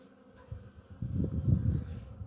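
A low, steady buzzing of many honeybees close by at the hive, flying in a late, almost wintry cleansing flight, swelling louder after a quiet start and holding as a dense hum.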